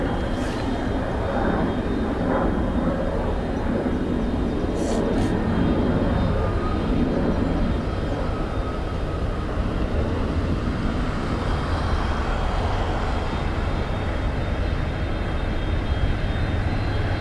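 A Lufthansa airliner lands on runway 28 left at Dublin Airport, a steady broadband engine roar that stays loud and even throughout, with faint radio chatter from the tower underneath.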